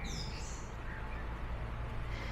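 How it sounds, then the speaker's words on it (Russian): Faint birdsong drifts through a shaded botanical garden in Poland, a few thin high chirps and short tweets at a distance over a low steady background hum, with no talking. "Но птицы поют просто великолепно, ты слышишь?"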